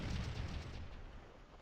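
Cannon fire in the Scourge of War game during the Battle of Stones River: a loud, rumbling low boom that swells at the start and rolls on as a sustained, dense roar, with no voices.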